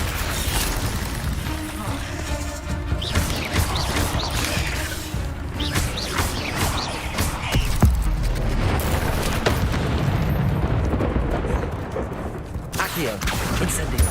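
Spell blasts and booming impacts from Hogwarts Legacy's Incendio fire spell in a fight against spiders, loud crashing bursts over a steady battle din, with a player talking over them.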